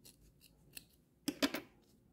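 Scissors snip through material while a school pencil case is being made, with one faint click followed by two or three crisp close cuts in quick succession.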